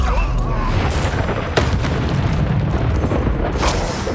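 Confringo blasting spell explosions in Hogwarts Legacy, a loud continuous rumbling boom with sharp bursts layered over it, dense and close throughout.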